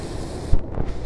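Fierce ocean waves crash against big rocks, giving a rough, continuous wash of broadband noise with a couple of low, heavy thuds as the water strikes, and no voices.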